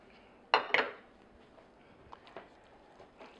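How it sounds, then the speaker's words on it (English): Sausage tossed into a Ninja Foodi pot of jambalaya, giving two quick clattering clinks of utensil against the pot, followed by faint scraping and stirring. "we're gonna grab the sausage from earlier and toss it right back in here"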